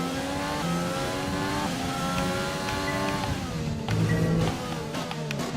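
A car engine revving in a racing video game, loud and close, its pitch climbing through gear after gear in repeated rising sweeps, with a brief harsher burst near the end.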